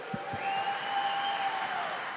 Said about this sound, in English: can I please get a round of applause for our medalists?